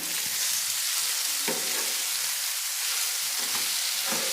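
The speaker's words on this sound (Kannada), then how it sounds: "ಈಗ ನಾನು ಮಸಾಲೆ ಐಟಮ್ ಸೇರಿಸ್ತೀನಿ" Potato and tomato sizzling in a pan as masala spices are added, a loud continuous hiss broken by a few sharp stirring scrapes, no voices.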